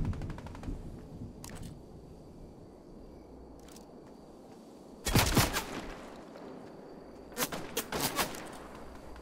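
Bursts of gunfire in the video game Fortnite, a couple of faint distant shots early, then two loud rapid volleys near the middle and end over quiet background ambience.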